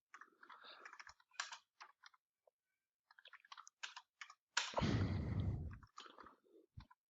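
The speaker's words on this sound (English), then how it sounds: "I can't type for toffee" Computer keyboard keys clatter in short irregular bursts of typing, close and fairly quiet, with a louder, denser flurry of clicks partway through; no one speaks.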